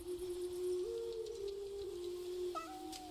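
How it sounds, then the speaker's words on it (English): A cat meows in the video game Ball X Pit, a long drawn-out tonal call that slides up and down and holds for about three seconds, loud and close, with a second shorter rising note near the end. "Oh, that's a cat."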